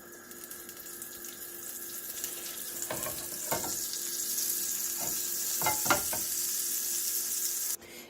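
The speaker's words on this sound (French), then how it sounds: "je vais mettre une noisette de beurre pour donner cette dorure à nos crêpes" A knob of butter sizzling in a hot Tefal frying pan before crêpe batter goes in, producing a steady close hiss with a few louder crackles, cutting off abruptly just before the end.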